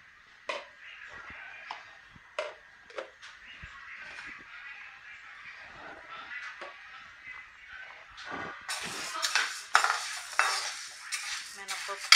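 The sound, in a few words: urad dal being stirred and roasted in a pan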